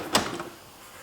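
A toolbox drawer sliding open, a single short close scrape with a faint rattle that fades quickly.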